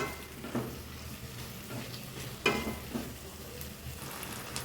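Deep-fried cauliflower being stirred into Gobi Manchurian sauce in a pan, a soft continuous sizzle with occasional spoon scrapes and light clatter, no voices.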